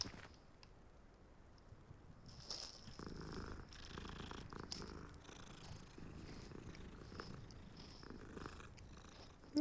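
A cat purrs in a video game, a soft, continuous rumbling purr that swells in the middle and sits near and fairly quiet under faint ambient game sounds, with no speech.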